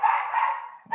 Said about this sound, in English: Sorry for the dogs in the back.